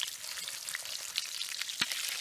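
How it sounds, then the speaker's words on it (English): Food browning in a pan during a 4WD camping trip, crackling and frying steadily with dense spitting sizzle throughout and one sharper pop near the end, close and alone. "So we're simply just frying up the top there, which is nice and crisp."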